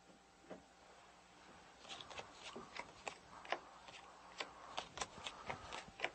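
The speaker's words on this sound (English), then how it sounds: "take the cards, shuffle, and cut" A deck of playing cards handled by a card dealer, shuffled and cut, giving a soft rustle and then a steady series of crisp, close taps and snaps from about two seconds on, with no voice.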